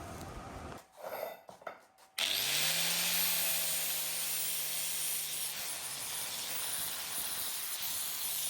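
A power grinder cutting into thick metal on a Dana 44 axle build; after a few short bursts the tool spins up and holds a loud, steady, harsh hiss and whine close by.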